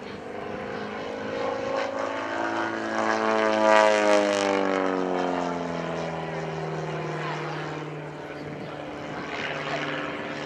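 A propeller display aircraft flies at the Shoreham airshow, its engine drone swelling as it passes near and then fading with a falling pitch, under a commentator's voice.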